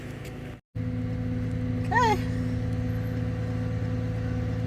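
Tow truck arriving at Fremont Peak State Park to collect a car with a punctured tire, a steady idling engine drone with a brief rising squeal, a short dropout and one person speaking briefly.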